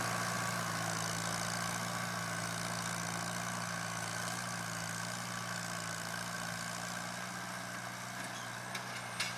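A small Farmall Cub farm tractor engine idles steadily, a constant low drone that runs unbroken and fairly close throughout, with faint clicks near the end.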